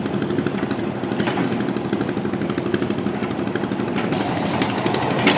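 A large machine drills holes during a kitchen renovation, giving a loud, continuous rattling and pounding drone that stays steady throughout, up close and with no voices.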